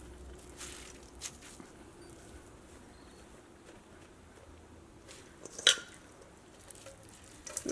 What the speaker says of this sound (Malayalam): ഇനി ഇത് വെള്ളം നന്നായിട്ട് പിഴിഞ്ഞ് കളഞ്ഞിട്ട് നമ്മളൊരു ടവലിലേക്ക് ഇടാണ്.